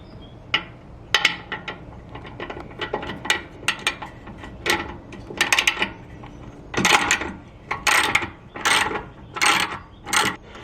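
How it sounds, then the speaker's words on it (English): A ratchet works loose the exhaust pipes on a brand-new 2022 Harley Davidson Street Glide, ahead of a Vance & Hines Torquer 450 install. Close, sharp bursts of clicking come in repeated strokes with brief pauses, growing longer and denser toward the end. "So we're gonna unscrew these pipes here"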